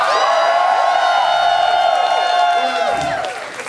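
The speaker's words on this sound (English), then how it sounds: "Clap for her." An audience at a drag show cheers and applauds a drag performer. The crowd noise is loud and sustained, with shrill whoops and screams layered over clapping, then it slowly fades toward the end.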